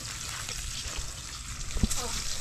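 Fish frying in a pan with hot oil, a faint continuous crackle and sizzle with one sharp pop near the end, voices talking softly over it.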